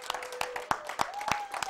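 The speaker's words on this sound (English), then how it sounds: "Give the Lord a hand clap and a shout tonight." A church congregation gives the Lord a few scattered hand claps during an evening service, sharp separate smacks spaced irregularly with a sustained voice-like tone running beneath.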